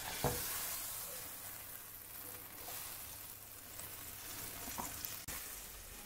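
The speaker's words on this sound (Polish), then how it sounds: "A teraz już będę wrzucała masło na patelnię, już jest rozgrzana tak solidnie." Butter melts in a well-heated frying pan, giving a soft, steady, faint sizzle with a couple of small clicks and taps of the pan.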